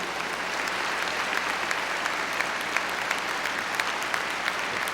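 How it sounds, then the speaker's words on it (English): A large crowd claps at a high school graduation ceremony, producing dense, sustained applause that holds at an even level for the whole stretch. "let's give them a big round of applause"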